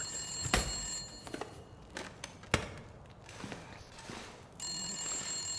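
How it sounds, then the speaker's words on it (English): Telephone rings in the survival video game The Long Dark, a bright electric bell buzzing loudly at the start and again near the end, with scattered knocks and thuds between. "Who's ringing at this time of the day or night?"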